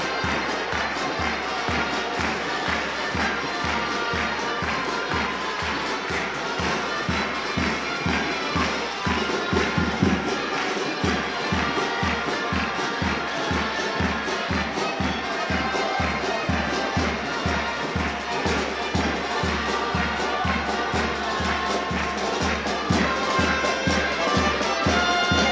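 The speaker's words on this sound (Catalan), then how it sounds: "Aplaudiments al carrer de la festa, pel ball de l'Àliga" Street crowd at the Àliga eagle dance during the Sant Pere festival in Reus, with dense continuous applause, cheering and a steady pounding festival beat, loud and unbroken throughout.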